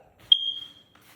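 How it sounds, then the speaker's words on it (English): A smoke alarm in a newly built house gives a single sharp, high-pitched beep that rings for about half a second before decaying into near silence. "The smoke alarms are still beeping at us."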